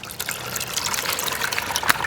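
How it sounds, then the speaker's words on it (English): Water pumped into an aquaponics distribution bucket pours and splashes steadily up close. The trickling rush is loud and continuous with a few brighter splashes, and no one speaks. "The water pumps in through these. All the water flows into here."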